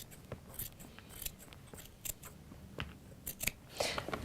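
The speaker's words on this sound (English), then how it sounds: "Get my scissors in there." Scissors snipping through fabric along a dress neckline, a steady run of close, crisp cuts with soft rustling between, no voices.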